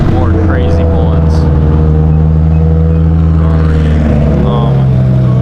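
Supercars pull into a busy car meet at sunset, engines droning loud and steady with strong low rumble throughout, a brief rising rev near the end; no talk over it.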